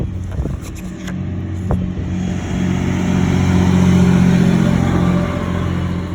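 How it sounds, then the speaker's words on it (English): A big truck rumbles past nearby outdoors on a windy day, its engine building to a loud, deep roar with a steady drone before easing slightly. "Sorry about the big truck."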